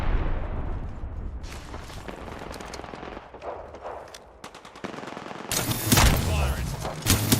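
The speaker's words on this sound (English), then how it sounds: "They're shooting at me" Gunfire in a shooter video game, scattered shots and bursts that build into a loud, close volley near the end, with game noise throughout.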